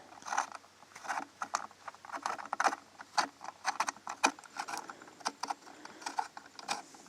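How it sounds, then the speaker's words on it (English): Small screws on an A Zone 500W LED solar street light are loosened with an Allen wrench, giving quiet, irregular metallic ticks and clicks close up, with no talking. "loosen them up with the included Allen wrench"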